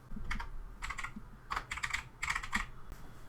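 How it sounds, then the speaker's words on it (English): Typing on a computer keyboard while entering a short phrase into a document, with quick bursts of close key clicks separated by brief pauses and no talk. "So I will type it here."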